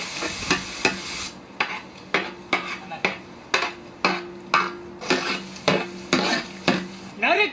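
A spatula stirs ginger garlic paste frying in cold-pressed sesame oil with chopped onions for a duck fry. It knocks and scrapes the pan in a steady rhythm of sharp, close strikes roughly every half second over a faint sizzle.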